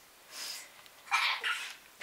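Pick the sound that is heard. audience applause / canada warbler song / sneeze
sneeze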